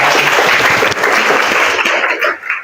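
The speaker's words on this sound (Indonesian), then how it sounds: "mari kita beri tepuk tangan yang meriah pada" Loud, full applause from an audience at an Islamic dakwah talk, a dense wash of clapping that holds steady and then tapers off near the end.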